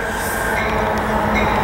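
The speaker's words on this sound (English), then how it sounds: "Here's another Metrolink bound for Oceanside coming in." A Metrolink commuter train bound for Oceanside, locomotive 869 leading, pulls into Fullerton station with a steady, loud rumble of rail noise and a faint high squeal of wheels, continuous throughout.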